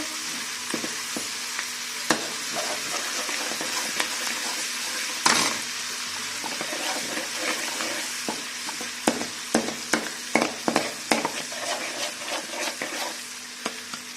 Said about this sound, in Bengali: পারফেক্ট একটা ঘি তৈরি হচ্ছে